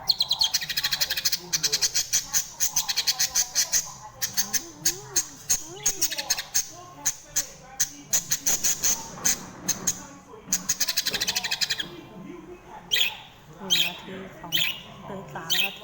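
Budgerigar chicks give loud, close, rapid chirps and squawks in dense bursts throughout, with a voice talking softly underneath.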